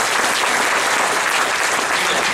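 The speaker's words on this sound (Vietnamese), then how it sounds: "Vỗ tay để chúc mừng mình." An audience at a business team meeting bursts into loud, dense applause, many hands clapping together in a steady unbroken roar close by.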